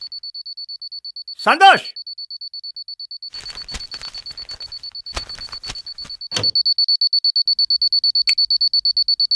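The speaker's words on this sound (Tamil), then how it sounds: "டேய் அலாரம் அடிக்குதுல" A steady electronic alarm clock beeps in a rapid, continuous pulse throughout, growing louder partway through, while a voice calls out a name and some knocks and shuffling sounds occur nearby.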